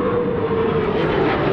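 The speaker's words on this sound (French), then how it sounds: "Avec un avion de chasse en cadeau" A fighter jet roars loudly overhead at a Japanese castle, a continuous, close, full-bodied engine rush that holds steady throughout with no talking.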